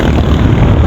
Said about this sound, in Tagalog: Maganda dito guys, magpalipad ng drone.